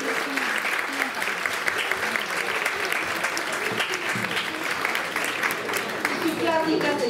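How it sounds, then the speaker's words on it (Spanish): Sustained audience applause, dense steady clapping from a sizable crowd filling the whole stretch, with a few voices faintly mixed in. "Recibamos un aplauso"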